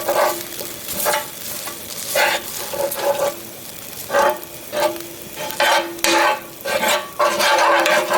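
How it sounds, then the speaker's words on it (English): Butter melting in a frying pan gives a close sizzle, punctuated by repeated rhythmic scraping and stirring swells that rise and fall every second or so. "now we're gonna put the butter on the pan"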